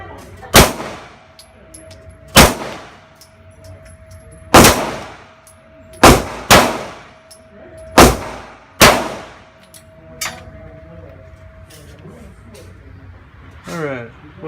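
Pistol shots fired at seven yards during an ammunition comparison at a range: seven loud, sharp reports at uneven intervals, each ringing out briefly, with a faint tone and small clatter between them.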